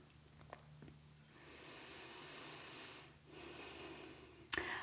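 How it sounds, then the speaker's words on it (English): Deep, slow breathing during a gentle hatha yoga session: two long, airy exhales close to the microphone, soft and steady with no talking. "Nice deep breaths."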